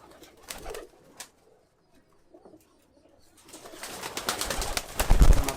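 Highflyer pigeons in a Kathmandu loft coo in soft, low bursts at first, then the loft grows busier with a denser, louder wash of bird sounds and rustling toward the end.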